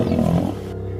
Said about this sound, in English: 3 young lions frantically attack an old lion.